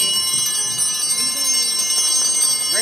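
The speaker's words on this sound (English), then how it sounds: "Ring your bells if you got them." Small hand bells rung by a congregation during an Easter Vigil service, a steady bright jingling and tinkling that continues throughout, moderately loud and close.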